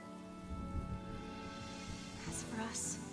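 Steady rain falls in a cutscene from Honkai Star Rail, a soft continuous patter under a calm spoken voice.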